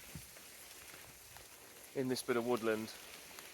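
Heavy rain pours down steadily in woodland, a broad even hiss throughout, while someone talks briefly over it near the end.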